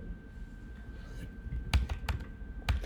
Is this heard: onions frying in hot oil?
no